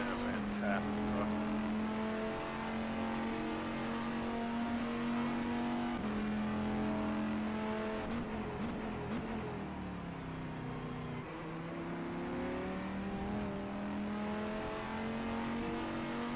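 Formula Renault 3.5 race car in rFactor 2 during a league race, its engine droning steadily at high revs throughout with pitch dips and rises as it shifts and brakes, loud and close alongside a faint trailing car.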